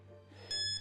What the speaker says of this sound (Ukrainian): Вмикаю таймер.